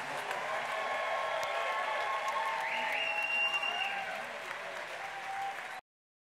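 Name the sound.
audience applause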